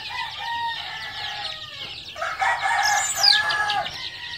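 Several 35-day-old chickens cluck and a rooster crows, the calls overlapping in a busy, close-up coop with steady low background noise.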